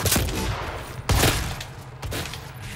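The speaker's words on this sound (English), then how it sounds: "Okay, it charges a shot up." A charged weapon firing in the DOOM multiplayer video game: three loud, booming blasts about a second apart, each trailing off into a rumbling decay.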